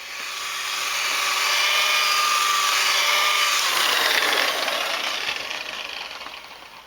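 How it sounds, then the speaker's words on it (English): Power polisher buffing the paint on a Toyota Carina E barn find, a high, whining drone that rises and holds for several seconds close by and then tapers off. "give it another go with the polisher"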